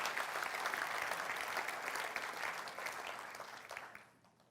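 A church congregation applauds steadily for several seconds, the clapping dense and fairly close, then thins and fades out at the end.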